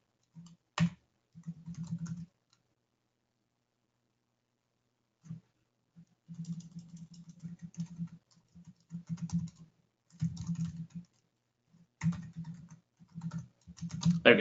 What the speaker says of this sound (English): dead silence there while I was typing